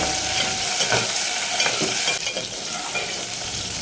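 Green chillies fry in a pan with a continuous loud sizzle, while a utensil stirs and scrapes through them at intervals, close and steady throughout.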